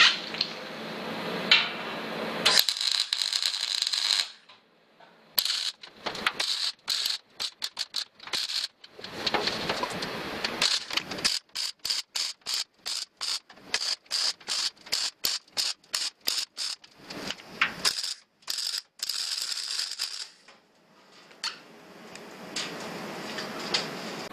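Arc welding on a steel rocket stove, a crackling sizzle broken into many short bursts with brief silent gaps between them, close and fairly loud, with no talk.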